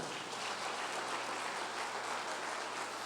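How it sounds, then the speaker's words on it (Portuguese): Steady congregational applause fills a church service honoring the Lord, a dense even wash of clapping that holds at a constant level for about three seconds with no voices breaking through. "As palmas para o Senhor."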